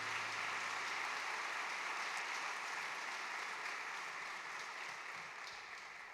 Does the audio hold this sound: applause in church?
yes